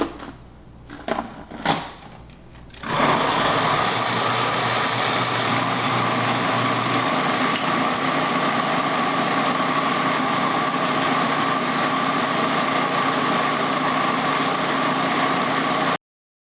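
Food processor blending hummus with roasted red peppers: after a few faint knocks, a loud, steady motor whir starts and runs continuously to the end.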